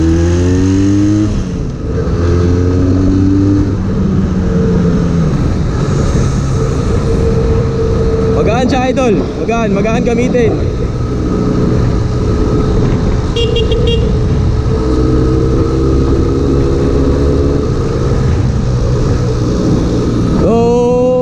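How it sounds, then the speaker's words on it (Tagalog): A two-cylinder Benelli Leoncino 500 motorcycle engine drones loudly throughout while riding, its pitch rising and falling with gear changes, while someone talks over the riding noise. "ang motor na to, 2-cylinder mga idol. Pero maganda ang tunog."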